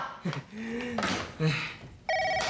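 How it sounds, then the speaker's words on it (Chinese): A voice speaks briefly in a TV drama scene, then a telephone starts ringing near the end, a steady electronic ring close by. "有电话"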